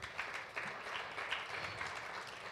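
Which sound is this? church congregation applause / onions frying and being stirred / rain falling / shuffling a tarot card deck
church congregation applause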